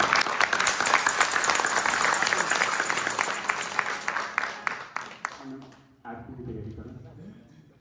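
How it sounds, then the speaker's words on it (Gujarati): A temple audience at a Sundarkand recital gives loud, dense applause that gradually thins into scattered claps before stopping, with a voice speaking near the end. "એમના માટે બસ ખાલી જોરદાર તાળી થઈ જાય"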